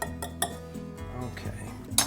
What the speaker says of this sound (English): So I'm using an old-fashioned pastry blender.